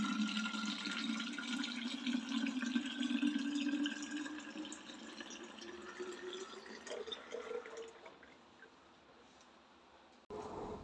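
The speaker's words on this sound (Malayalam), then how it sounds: "ആ ബോട്ടിലുകളെല്ലാം ഒന്ന് നിറച്ചിട്ട് ബാക്കി വെള്ളം കൂടെ ഉള്ളത് ഇതിൽ നിറച്ചിട്ട്" Water runs steadily from a tap into bottles and a pot in a home kitchen, the pitch rising as each vessel fills. The flow is close and moderately loud, then cuts off near the end.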